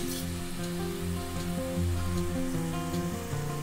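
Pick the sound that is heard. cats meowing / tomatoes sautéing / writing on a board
tomatoes sautéing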